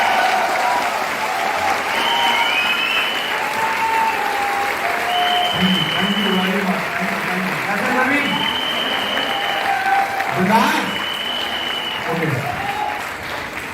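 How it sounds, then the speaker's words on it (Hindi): Loud audience applause at a business training event welcomes Kuldeep Singh, a sustained wash of clapping over which someone talks and music tones drift in and out. "जोरदार तालियां आप करेंगे"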